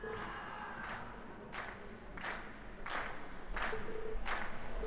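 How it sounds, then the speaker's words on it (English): Video game concert audience cheering and applauding, a steady crowd roar with periodic bursts of clapping swelling slightly louder toward the end, no talking. "we've heard your cheers loud and clear"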